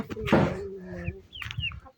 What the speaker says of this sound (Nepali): यता भालेहरू धेरै छ के